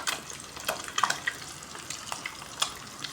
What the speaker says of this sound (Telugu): ఇప్పుడైతే ఉల్లిపాయలు వేసుకున్నాను.